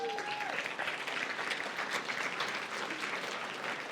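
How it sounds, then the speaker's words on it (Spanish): A church congregation applauds in a dense, steady wash of clapping that lasts throughout, with a brief voice audible at the very start. "¿Por qué no le das un aplauso a Cristo Jesús?"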